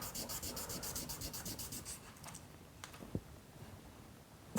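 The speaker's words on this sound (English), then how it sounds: "you can get a buff stick and just rub that face over that bit of" A buff stick rubbed briskly over a metal face to clean it before soldering, giving close, steady scrubbing strokes in a quick rhythm that slow and fade after about two seconds, ending with a few light taps.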